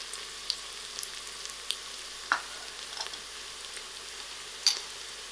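Onions with a cinnamon stick and bay leaf fry in a pressure cooker for mutton curry, giving a soft, steady sizzle with scattered sharp crackles and pops, fairly quiet and close, with no talking.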